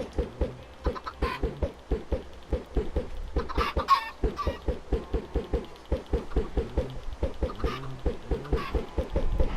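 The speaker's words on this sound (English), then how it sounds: "Gotta get some more chickens." Rapid, repetitive clucking from several chickens in Minecraft, a dense rhythmic stream of short calls with occasional higher squawks, fairly close.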